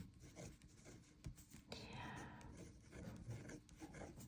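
A pen scratches numbers onto paper in short rasping strokes, close and fairly quiet, with one longer stroke midway, while a person speaks softly throughout.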